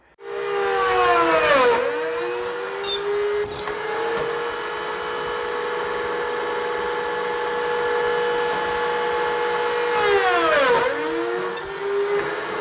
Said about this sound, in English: Now the joints I'm going to secure with pocket screw technology.